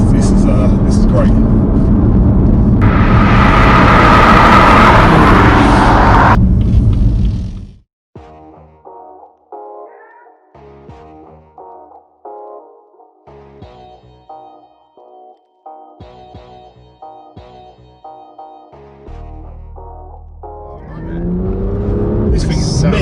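A BMW M2 engine roars loudly under throttle, then drops to a burst of crackling, popping exhaust overrun with sharp irregular bangs before the engine note swells again near the end.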